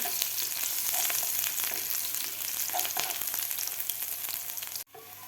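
Garlic and ginger fry steadily in hot oil in a pan for paneer masala, a loud continuous sizzle with faint scraping, cutting off abruptly near the end.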